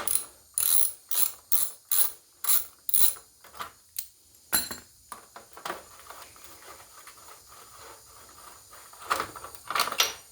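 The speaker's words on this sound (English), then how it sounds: "we're gonna undo the bolts and get this dash lifted up" A hand ratchet loosening dash bolts on a Cub Cadet 2146 riding mower gives a rapid series of sharp, evenly spaced clicking pulls, then slower, scattered clicks and metallic clunks, close up with no talking.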